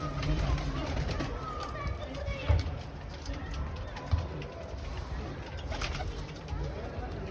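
Pigeons on a balcony coo softly nearby with a few light flutters and scuffs, under a person talking.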